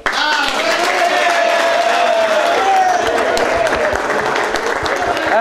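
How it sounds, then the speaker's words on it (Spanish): Audience applause and cheering for Cacho Sender, the 2011 champion, at a peña gathering: dense, sustained clapping from a crowd, loud and steady throughout with a tonal whistle-like line riding over it. "le vamos a darle un aplauso a Cacho Sender porque salió el campeón el 2011"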